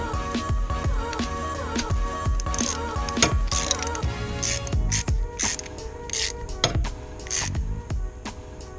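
A ratchet with a 5/16 socket tightens a threaded fitting, giving a close series of sharp metallic clicks in quick bursts with brief pauses between strokes and no voices.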